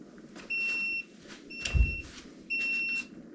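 A timer beeps during a homebrew beer boil, sending three spaced bursts of rapid high electronic bleeps, with a dull knock between the first and second.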